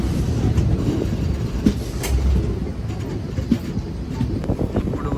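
A train on the Kurnool to Tirupati run rumbles along steadily, heard from on board with continuous clickety-clack of wheels over rail joints and occasional sharper knocks, close and fairly loud throughout.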